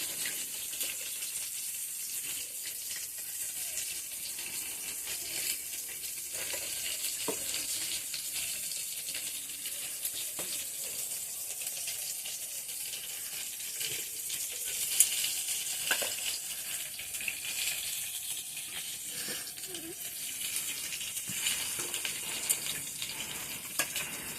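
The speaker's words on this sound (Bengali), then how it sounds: "ওদিকে মাছটা হালকা আঁচ দিয়ে রেখেছি, মুচমুচা ভাজা হচ্ছে।" Fish frying crisp in a pan over low heat, a faint, steady hiss of sizzling oil with small crackles throughout and no talking.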